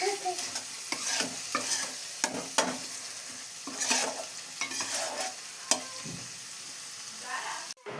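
Spices stir-fried in a pan for a jackfruit curry, with steady sizzling and repeated scraping strokes of a spatula against the pan, close and fairly quiet, with no talking.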